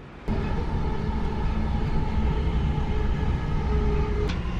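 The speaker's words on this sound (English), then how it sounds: "I've overslept on the train" A passenger train running along the rails, with a steady, loud rumble and a faint hum throughout, a sharp click at the start and another near the end.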